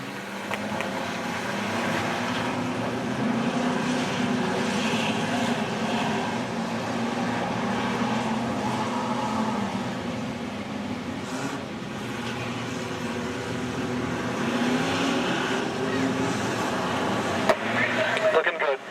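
Outlaw sedan race cars at Macs Speedway roar steadily as a field, engines droning loud and continuous throughout, with a race commentator talking over the noise.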